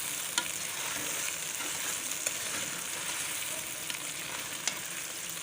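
Okra (bhindi) frying in a pan, a dense continuous hiss of oil with a few faint scrapes or taps, steady and close without speech.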